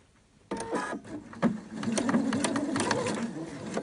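A sewing machine stitches bias tape around corners, starting abruptly into a fast mechanical whirring chatter, close and steady with slight changes in speed.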